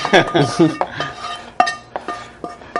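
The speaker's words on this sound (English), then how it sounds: "Next, I'll be mixing stuff with a teaspoon." A teaspoon stirring ingredients in a measuring cup, clinking and scraping in quick irregular taps against the sides, close and fairly loud, with a voice speaking briefly at the start.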